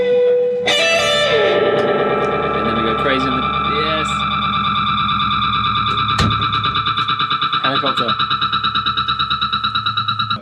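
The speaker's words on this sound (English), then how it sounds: "I guess it sounds like a proper analog delay" Electric guitar notes with analog delay, repeats trailing behind each phrase in a steady, fading echo, with a full band underneath.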